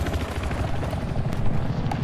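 Attack helicopter in the Battlefield 4 video game, its steady rotor drone and low rumble filling the scene continuously at close range, with faint game effects in the background and no talk.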